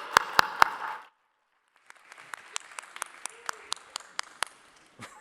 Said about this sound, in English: So a round of applause for Andre